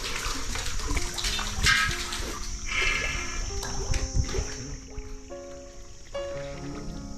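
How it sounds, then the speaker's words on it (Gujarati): Women drawing water with pots from a centuries-old stepwell in a Jhalawad village, water sloshing and splashing in repeated bursts with pots knocking, fairly near, with faint voices in the background. "હા ભાઈ તમે જોઈ શકો છો બહેનો આ પાણી સિંચી રહ્યા છે."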